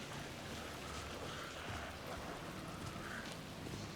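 Steady rain falls in the video game Alan Wake 2, a dense, even hiss of drops on surfaces throughout, close and unbroken, with no talk.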